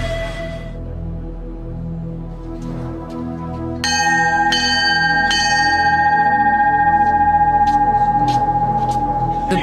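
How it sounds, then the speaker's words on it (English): A brass bell is rung to signal trainees quitting Navy SEAL BUD/S training, sounding after a low rumbling backdrop; several sharp clangs follow in quick succession and ring out loudly, their long resonant tones overlapping and sustaining. "The bell sounds, and 8 more men ring out of Class 234."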